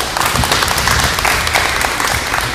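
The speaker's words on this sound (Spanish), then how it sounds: "Un aplauso al hermano" Church congregation in Carson City, Nevada applauding a brother after a sermon, a brief dense burst of many hands clapping steadily throughout.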